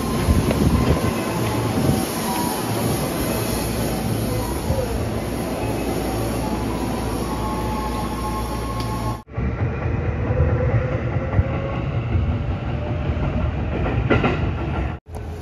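Riding a JR Musashino Line train via Shin-Matsudo, a steady onboard rumble of wheels on rails with rhythmic clickety-clack, continuous and close, broken by a brief dip midway, with no talk.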